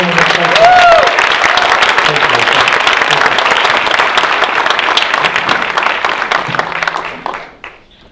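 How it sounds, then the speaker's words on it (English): A live audience at a holiday event in a cinema gives a loud, sustained round of applause with some crowd noise, steady for about seven seconds before fading out. "Once again, a big round of applause for the great"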